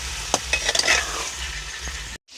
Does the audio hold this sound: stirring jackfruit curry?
yes